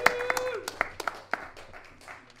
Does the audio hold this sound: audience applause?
yes